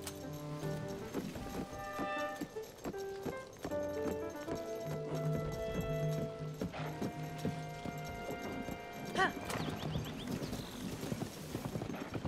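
A horse walks with steady clip-clopping hooves, close and continuous, over a busy background of other sounds.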